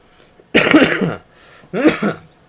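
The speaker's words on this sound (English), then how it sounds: "Sorry I'm coughing so much" Two loud, harsh coughs close by, the second following after a short pause.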